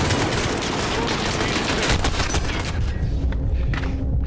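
Sustained loud battle noise from Call of Duty Modern Warfare (2019): dense gunfire and blasts fill the whole stretch, with a grenade explosion buried in the continuous roar rather than standing out as a single isolated boom.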